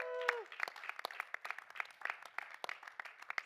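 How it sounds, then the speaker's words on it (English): An audience at a COP28 event applauds an announcement, with steady, fairly distant clapping running under the hall's ambience for a few seconds. "So big round of applause"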